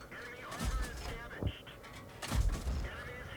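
Tank cannon shots in the World of Tanks video game, fired from concealment, with several heavy booming blasts spaced about a second apart over ongoing game ambience.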